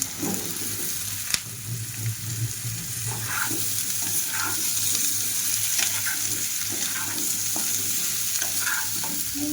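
Chopped onion and vegetables for a pumpkin and egg curry fry in a pan, making a steady close sizzle broken by repeated spatula scrapes and stirring clatter, with no one speaking.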